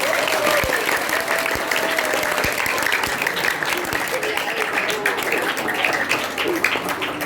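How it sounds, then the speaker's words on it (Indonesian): An audience at a school Isra Mi'raj event claps for a student, a sustained, fairly loud round of applause with a voice speaking over it. "tepuk tangan untuk kawan kita"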